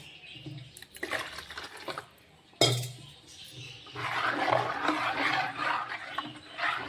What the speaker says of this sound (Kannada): ಇದಕ್ಕೆ ನಾನು ಇನ್ನೊಂದು ಸ್ವಲ್ಪ ನೀರು ಹಾಕೋತೀನಿ ರೀ.